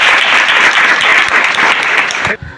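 Congregation at a Christian gathering claps loudly and continuously in thanks to the Lord, a thick burst of many hands that cuts off sharply near the end.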